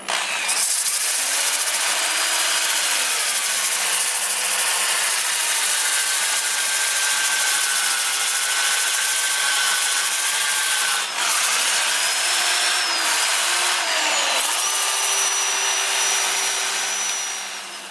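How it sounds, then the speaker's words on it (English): Catalpa wood, a fairly soft wood, is sanded with 120 grit paper on a lathe turning in reverse at about 400 rpm, giving a loud, continuous, hissing abrasive rush over a steady motor hum. "I'm going to start with a 120 grit, lathe running in reverse at probably around 400"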